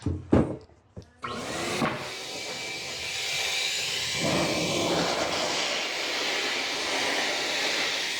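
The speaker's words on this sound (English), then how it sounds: "I'm gonna try this dryer." A loud, steady dog grooming blow dryer roars continuously with a hissing airflow while drying a Pomeranian, preceded by a few sharp bumps and clatters at the start.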